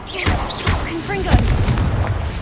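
A Confringo blasting spell going off in the Hogwarts Legacy video game, heard as a sharp explosive boom with crackling bursts amid busy game sounds and clattering effects.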